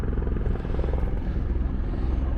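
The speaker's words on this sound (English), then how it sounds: "some of these helicopters are going to dip in right here and fill up. Like this guy is about to fly over me right now" A firefighting helicopter passes overhead at a water dip site, its rotor thudding loud and steady throughout with a dense, continuous roar.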